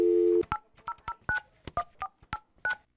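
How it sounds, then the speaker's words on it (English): A dial tone cuts off and a touch-tone telephone dials a number: about ten short, evenly spaced keypad beeps, close and clear, with no voices. "We called the number"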